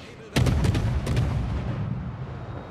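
Destroyer guns firing in World of Warships, a sudden heavy volley of several deep booming shots in quick succession followed by a second pair, then a long rumbling decay, with little talk.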